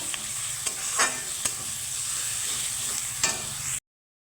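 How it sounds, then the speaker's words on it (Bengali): Spice masala of cumin and coriander powder fries in oil for a katla fish curry, a continuous close sizzle with occasional spoon scrapes and clicks, cutting off abruptly into silence near the end. "তেল ছাড়া অব্দি মশলাটাকে ভেজে নিব"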